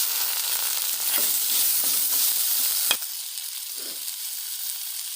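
Ginger garlic paste and chopped tomato sizzle steadily in a hot pan, a constant frying hiss with a sharp stir-like crackle near the middle before the bubbling settles down.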